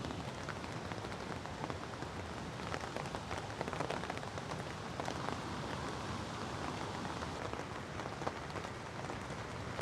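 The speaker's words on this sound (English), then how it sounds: "It has not stopped raining since we got here." Steady rain patters on a campsite beside a rising creek during a major storm, a dense, even hiss of drops that continues close and unbroken without any talking.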